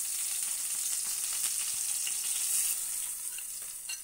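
Tamarind juice mixture for a masala stuffed brinjal curry sizzles in a hot pan, a bright continuous hiss held close throughout and easing slightly toward the end, no voices.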